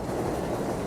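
The elevated 7 subway train rumbles overhead above Roosevelt Avenue in Jackson Heights, Queens, a loud dense continuous roar of rail noise with no pause.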